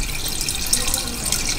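Water flows steadily from a volumetric measuring vessel tilted to 60 degrees during a drip-timing check, a constant close splashing stream with no talk.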